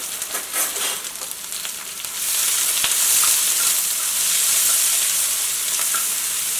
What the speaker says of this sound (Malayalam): ഇതെല്ലാം കൂടിയിട്ട് വഴറ്റിയിട്ട് എടുക്കാം.